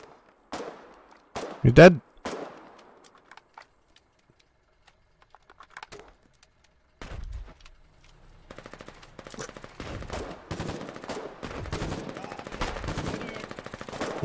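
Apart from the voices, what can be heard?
gunfire in the video game Foxhole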